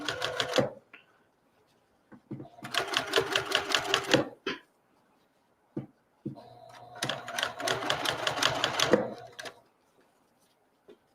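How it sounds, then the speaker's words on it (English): A sewing machine stitches a mushroom pot holder in two bursts of rapid, rhythmic needle chatter separated by quiet handling clicks and pauses, close and moderately loud. "And once again, just continue sewing."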